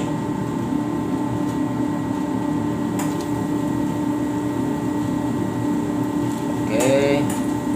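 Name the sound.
fish fillet coated in flour frying in oil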